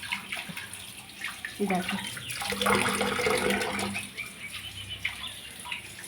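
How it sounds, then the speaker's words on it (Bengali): Fish being washed under a running tap, a close splashing gush of water that swells in the middle and then eases, with a voice speaking briefly over it. "মাছগুলো এখন ধুয়ে নিই, তারপরে ম্যারিনেট করে নেবো।"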